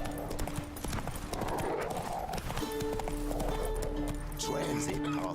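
A horse gallops in The Witcher 3: Wild Hunt video game, its rhythmic hoofbeats clip-clopping steadily throughout under constant game sounds and talk.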